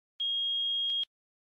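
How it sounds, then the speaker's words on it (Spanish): A digital multimeter gives a single steady continuity-test beep, a clean electronic tone held for just under a second and heard alone in quiet, ending with two small clicks. "Si el multímetro marca 1 y emite un pitido,"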